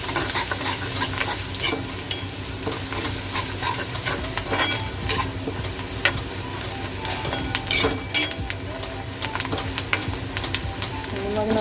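Vegetables frying in a pan are stirred with turmeric, giving a continuous sizzle broken by frequent scraping and clicking strokes of the spoon against the pan, close and steady, with no talking.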